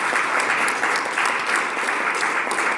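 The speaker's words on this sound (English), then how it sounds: "a round of applause for our brilliant panel" An audience at a Botswana satellite event applauds a panel with a thick, continuous wash of clapping that stays steady and moderately loud for the entire moment.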